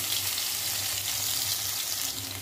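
Cumin and mustard seeds sizzle steadily in hot oil for an Andhra-style sambar, a loud, continuous close crackle and hiss without pause and with no one speaking.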